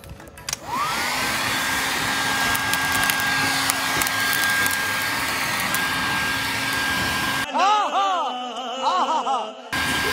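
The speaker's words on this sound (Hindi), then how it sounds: "ये देखो ये पापा ने हेयर ड्रायर मंगाया है" A hair dryer blows loudly and steadily onto barbecue charcoal at a rooftop gathering, a droning whine with a sustained tone that cuts off abruptly near the end, followed by a brief wavering sound.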